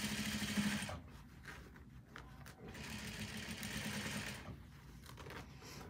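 A sewing machine stitches fabric for a wingback chair cover, running in steady mechanical bursts, pausing briefly, then resuming close and moderately loud with no talking.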